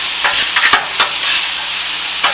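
A beef patty for a chopped cheese sandwich sizzles loudly on a hot grill, a constant bright hiss broken by several sharp scraping chops of a spatula cutting the meat apart.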